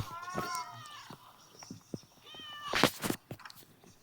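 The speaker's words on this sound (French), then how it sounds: "C'est quoi le bruit? C'est le chat." A cat meows twice nearby, drawn-out and tonal, mixed with some rustling and brief noises in a quiet room.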